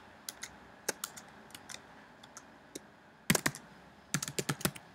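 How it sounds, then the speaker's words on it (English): Keys tapped on a Mac computer keyboard, close and crisp: scattered single clicks, then two quick bursts of rapid keystrokes near the end, with no voices. "so I'll just type the keys that you have to press"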